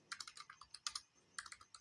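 Computer keyboard typing while coding an HTML, CSS and JavaScript project, a close, quick irregular run of crisp key clicks with short pauses and no voices.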